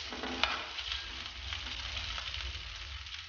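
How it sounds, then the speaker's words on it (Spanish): Rice frying in a small splash of oil in a pan for a Peruvian chaufa gives a steady, close sizzle with light stirring scrapes and no talk. "Ahora vamos a freír nuestro arroz."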